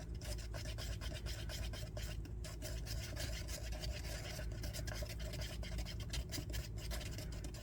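Resin mix is stirred in a small cup, making quiet, continuous scraping and rubbing strokes in a quick, uneven rhythm, close up and faint.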